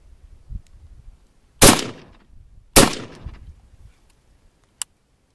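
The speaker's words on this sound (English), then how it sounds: "I think you got 2 more rounds. Might as well fire them off." An SKS semi-automatic rifle in 7.62x39 fires its last two rounds outdoors, two loud sharp cracks about a second apart with short decaying echoes, followed by a faint metallic click.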